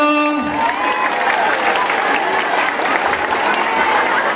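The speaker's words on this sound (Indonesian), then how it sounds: "Tepuk tangan dong." Audience applause at an Islamic sermon by a preacher in Pemalang, Central Java, a steady dense clapping from a large crowd filling the room, loud and sustained throughout.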